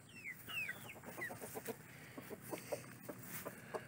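Several chickens cluck in quick bursts with occasional higher bird chirps, all mixed into steady farmyard background noise.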